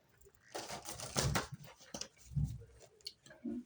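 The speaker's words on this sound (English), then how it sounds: "And one more shuffle." A deck of tarot cards is shuffled by hand in a quiet room, giving several bursts of soft riffling and tapping with short pauses between them.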